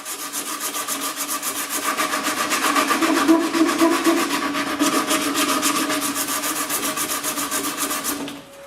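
A wooden shelf support for folding shelves is sanded by hand in rapid, rhythmic back-and-forth rasping strokes, loud and close, steady for several seconds before stopping, with no speech.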